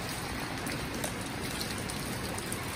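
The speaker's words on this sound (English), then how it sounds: "it's raining a bit" Rain falling outdoors during Super Typhoon Odette as the wind picks up, a soft, even hiss of drops with no voices.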